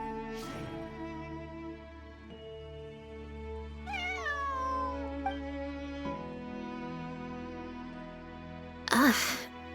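A cat meows in the video game Genshin Impact. The meows come as short distinct calls over a sustained musical background, and a voice speaks in the game around them.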